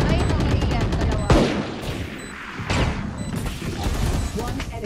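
Rapid bursts of Valorant gunfire crackle and boom in quick succession, loud and sharp, with a couple of heavier blasts standing out.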